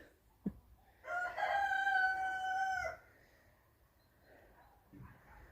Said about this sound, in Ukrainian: Півні воно співають, кури несуться.